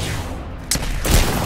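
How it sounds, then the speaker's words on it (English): A charged shot from the Peacekeeper shotgun in Apex Legends, heard as loud, dense game audio with a sharp blast near the middle and a heavier boom shortly after, close and forceful with no speech. "See what happens when you charge your shot?"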